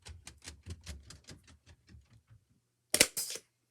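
A series of quick, even clicks and taps runs for a couple of seconds, then stops; after a short pause comes a sharp double snap as a stapler drives a staple into a folded corner.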